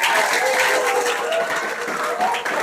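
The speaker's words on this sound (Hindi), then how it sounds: "तो जोरदार ताली" Dense, sustained applause from an audience at a Guru Purnima celebration at a coaching and computer centre, loud and close, a continuous wash of many hands clapping with slight swells throughout.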